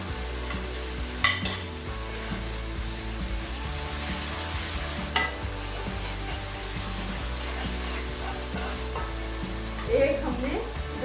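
Garlic and ginger added to well-browned onions in a pot, giving a low continuous sizzle with a few sharp utensil clicks and a brief brighter rise near the end; quiet, with a faint voice in the background.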